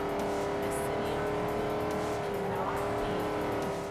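A car driving in the Forza Horizon racing game, with a steady loud engine drone holding one pitch throughout, close and continuous with no talk.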